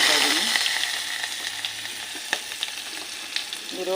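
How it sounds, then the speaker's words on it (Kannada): Chopped onions hit hot oil with mustard seeds and cumin in a festive home recipe, producing a loud, steady sizzle and crackle up close, with a few stirring knocks. "ಆಮೇಲೆ ಹೆಚ್ಚಿಟ್ಟಿರೋ ಈರುಳ್ಳಿ ಹಾಕ್ಕೊತಾ ಇದ್ದೀನಿ."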